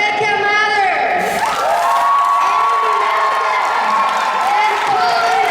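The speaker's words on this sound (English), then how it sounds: "I need a juicy round of applause for Rebecca Mathers" A convention crowd at a cast panel for Once Upon a Time in Dortmund cheers, whoops and applauds loudly and continuously, with shrill shouts ringing over the roar.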